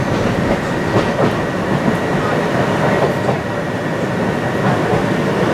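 A Northern passenger train running on rails near Wakefield, heard from inside as a loud, steady rumble with faint rhythmic clickety-clack of the wheels.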